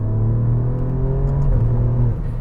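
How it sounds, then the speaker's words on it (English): A V6 car engine revs and holds a strong, buzzy droning note close by, pitch sliding slightly as it eases off near the end. "It's a really exaggerated sort of V6 note up front while you're revving it out."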